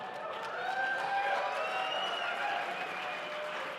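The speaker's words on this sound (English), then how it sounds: "All right, let's give him a round of applause." Audience applause at the Design Slam during Autodesk University in Las Vegas, a soft, continuous crowd clapping layered with voices and tonal chatter, fairly distant and even in level.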